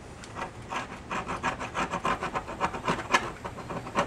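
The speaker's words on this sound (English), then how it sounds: "All that scraping sound comes from taking the top layer of the tape off." Sun-damaged vinyl striping tape being scraped off automotive paint, a steady run of close, rasping strokes repeating in quick rhythm for several seconds with no talking.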